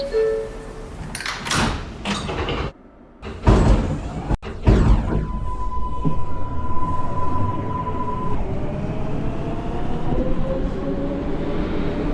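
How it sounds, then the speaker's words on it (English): A NYC Subway R142A train on the 6 line bound for Brooklyn Bridge, simulated in the OpenBVE game, rumbles steadily with loud clattering and a rising motor whine, with a brief door-like gap near the start. "This is a Brooklyn Bridge bound 6th train."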